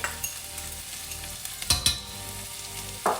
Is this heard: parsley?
yes